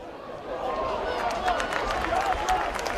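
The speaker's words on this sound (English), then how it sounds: "a very appreciative crowd here" Crowd at a rugby league play-off final, Workington Town against Doncaster, swells into applause and cheering, a dense clapping roar mixed with a commentator speaking over it.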